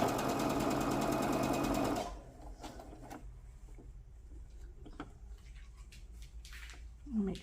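A sewing machine runs a regular stitch along the seam of a Santa stocking, whirring loud and steady for about two seconds, then stops, leaving quiet handling noises.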